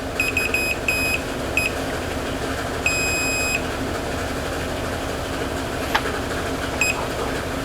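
Multimeter continuity beeper sounding as its test leads touch together during a Marantz 2225 receiver repair: several short, sharp electronic beeps in bursts, one sustained tone in the middle, over a steady background hum.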